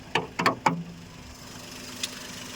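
A 2011 Maruti Suzuki car with a K-series engine, registered in 2012 and kept in good condition, idles with a steady low hum after a few sharp clicks at the start. No one speaks.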